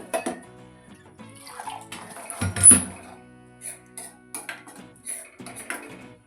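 Water is poured into a cooking pot while making oil-free, beach-style masala sundal with peas. The pour is intermittent and moderately loud, broken by sharp clinks of metal utensils against the pot, with no talking.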